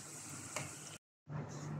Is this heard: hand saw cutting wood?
no